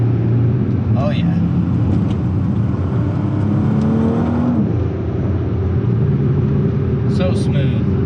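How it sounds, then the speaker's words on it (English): A 971 Porsche Panamera 4S with a PDK transmission drives along with its engine producing a steady, smooth rumble and whir inside the cabin. A faint rise in revs comes midway, and a voice may be present under the noise. "This car sounds so good, and that transmission is so smooth."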